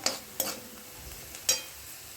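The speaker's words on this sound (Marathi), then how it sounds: "कांदा चांगला गुलाबी होईपर्यंत परतून घ्यायचा आता यामध्ये थोडीशी हळद चांगली परतून घेऊया" Onion sautéing with a little turmeric in a pan over low gas, heard as three brief stirring scrapes with a soft sizzle underneath, with no one talking.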